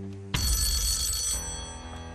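A telephone on the Deal or No Deal game show set rings for the banker's call. The ring is loud and sustained, cutting in over a low musical hum and holding steadily to the end.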